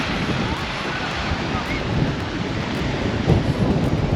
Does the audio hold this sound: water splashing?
yes